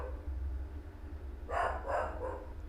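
A dog barks three times in quick succession from a short distance, the sharp yaps rising over a low, constant indoor hum.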